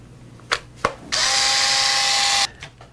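A power driver runs a screw into the plastic chassis of an ARRMA Typhon 4x4 Mega V3 RC car in one steady, loud whir of about a second and a half, with small clicks before and after.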